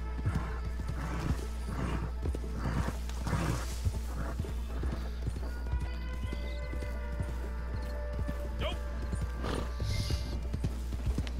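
Horses in the Red Dead Online video game, with quick clip-clop hoofbeats, several whinnies and neighs, and rattling tack mechanisms, close and continuous.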